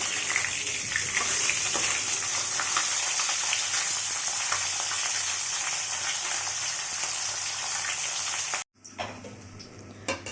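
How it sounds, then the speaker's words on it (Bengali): Parshe fish frying in a pan at home, a loud steady sizzle and crackle running for about eight and a half seconds before cutting out abruptly, followed by a few brief clatters. "আমি মাছগুলো ভেজে নিচ্ছি পার্শ্ব মাছটাই আগে ভাজছি"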